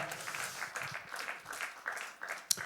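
Faint clapping comes from a congregation at a Korean church Bible lesson on David and Mephibosheth, quiet scattered claps with one sharper clap near the end.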